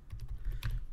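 Rapid typing on a computer keyboard while writing Excel VBA code, a quick close run of soft key clicks with no voices.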